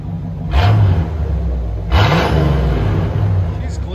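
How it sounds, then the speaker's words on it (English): Idling 1980 Chevy Corvette with a 350 V8 and straight-piped dual exhaust, revved sharply twice, each blip rising then settling back to a loud, lumpy idle; close and unmuffled, with faint talk in the background. "That sounds like a mean Corvette right there."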